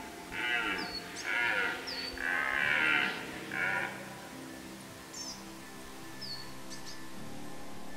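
A deer stag bellowing during the rut in a forest gives four strong, drawn-out calls in the first few seconds, then falls quiet. Faint bird chirps sound in the background.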